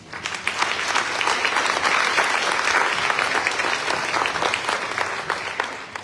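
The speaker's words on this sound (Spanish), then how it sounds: "Un fuerte aplauso para ella." Loud, sustained applause from an audience at the closing of an international archives and document management seminar, a dense wash of clapping that swells and holds steady without speech.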